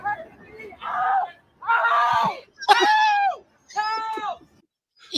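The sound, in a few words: man's loud excited scream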